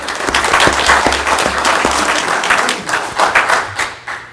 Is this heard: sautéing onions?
no